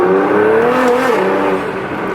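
Nissan GT-R on 315-wide tires accelerates hard, a loud rising engine tone climbing steadily through a gear, heard from close by without talk.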